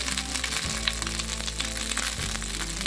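Masala sizzles and crackles steadily in hot oil for baigan bharta, a dense, close frying hiss that carries on without pause and without voices.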